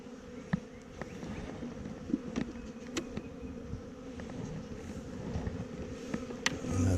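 Honey bees stream into a nuc carrying pollen, making a steady, close buzzing drone with occasional louder passes of single bees.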